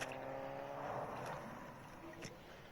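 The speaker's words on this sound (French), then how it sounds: "j'ai entendu une voiture." A car drives in a video game, a faint engine drone that swells and fades over a couple of seconds, with quiet voices in the background.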